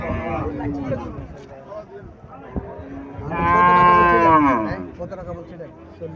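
Haryana cow at a cattle sale giving one long, loud, close moo, with someone talking before and after it.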